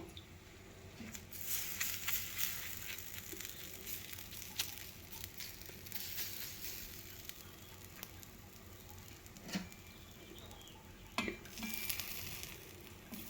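Water dabbed with a cloth onto rice roti on a hot pan sets off a steady, moderately loud sizzle with soft wet patting and a few sharper bursts, no voices over it.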